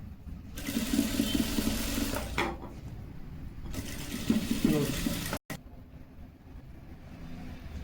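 Sewing machine stitching lace onto a shirt, two long runs of fast, steady whirring and needle chatter, close and clear, separated by a short pause with a brief click near the end.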